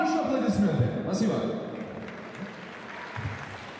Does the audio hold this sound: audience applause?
yes